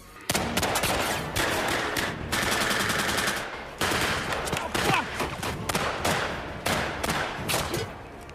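Staged World War II battle gunfire from the Hürtgen Forest: loud, dense bursts of machine-gun and rifle fire rattle almost continuously, with a brief lull before the volleys resume.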